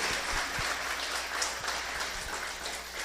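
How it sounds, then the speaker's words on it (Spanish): A church congregation applauds the Lord during a Spanish-language sermon, a continuous hissing wash of many hands clapping at once with a low hum beneath. "¿Puedo darle un aplauso al Señor por eso, hermano?"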